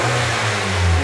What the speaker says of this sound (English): If we race the engine up, what's going to happen?